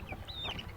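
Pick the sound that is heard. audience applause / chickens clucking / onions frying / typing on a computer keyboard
chickens clucking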